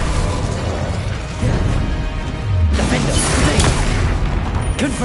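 The Confringo explosion spell in a Harry Potter video game goes off as a deep booming blast with crashing debris, loud and close, followed by rumbling impacts and crackling.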